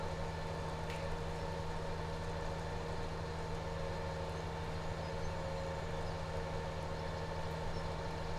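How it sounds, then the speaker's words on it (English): Tractor engine in the Farming Simulator 17 video game, a steady droning hum at constant pitch that holds unchanged throughout with no voices. "Come on, tractor, move."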